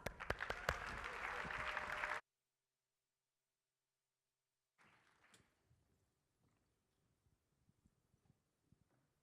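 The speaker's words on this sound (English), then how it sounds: "Round of applause." A conference audience at an NTEN Ignite talk session gives a dense, loud burst of applause for about two seconds. It cuts to near silence, followed by faint scattered shuffles and taps.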